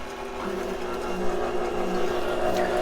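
Electric mixer running steadily while flour is gradually added to a madeleine batter, a continuous close mechanical whir with a faint rhythmic rattle throughout.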